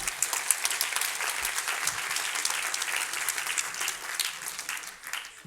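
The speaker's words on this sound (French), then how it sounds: "on peut les applaudir" A church or lecture audience claps for long-married couples, a dense, lively round of applause that holds steady for several seconds and then begins to thin out.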